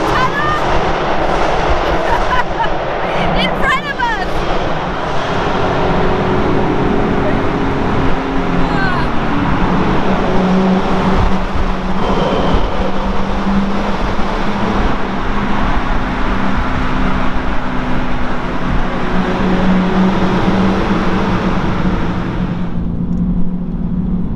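A Lamborghini Urus engine roars continuously in a tunnel, echoing, loud and sustained before cutting off abruptly near the end.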